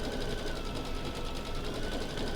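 A sewing machine stitching a large piece of white fabric for a witch's hat runs in a fast, even mechanical whir, steady and close throughout with no pauses or voices.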